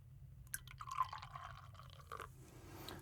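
Beer trickles into a glass for an IPA tasting, a faint, close liquid pour with soft drips and gurgles.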